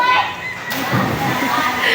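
Water waves slosh and splash in a pool at a family birthday gathering, with a burst of splashing mid-clip under children's shouts and chatter.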